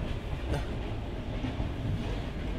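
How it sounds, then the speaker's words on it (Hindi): A Russian local train runs on its rails with a loud, continuous rumble and low clatter of wheels that holds steady throughout. "इनकी जो लोकल ट्रेन है भाई, इतनी आवाज़ करती है भाई साहब"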